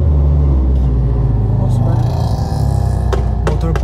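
A car's boxer engine rumbles with a deep, steady low throb close by, a few sharp clicks toward the end, while people talk over it.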